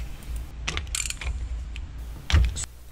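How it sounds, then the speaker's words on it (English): A 16mm spark plug socket turning to loosen a spark plug on a Sea-Doo, heard as a few close metallic clicks and ratcheting taps with a firmer clunk near the end, without speech. "you're going to need a 16mm spark plug socket to remove the spark plugs"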